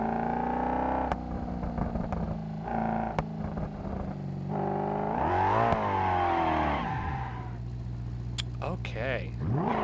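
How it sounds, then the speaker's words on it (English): A big twin-turbo Bullite engine of about four litres with a sequential gearbox, in a BeamNG.Drive car, revs up and falls back several times with rising and dropping pitch, with clicks between, while a voice talks over it. "this is a twin-turbo Bullite engine, a big Bullite engine"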